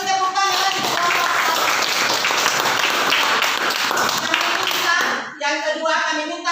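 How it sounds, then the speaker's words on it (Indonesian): A school classroom claps together for a student group, a dense, loud burst of many hands lasting about five seconds before cutting off, after which children's voices are heard chattering. "Mari kita beri tepuk tangan lagi kelompok"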